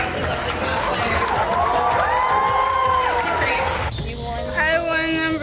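Audience at SoyCon 2017 cheering and whooping for cosplayers, a loud, dense crowd roar with shouts and whistles throughout, easing slightly near the end as voices carry over it.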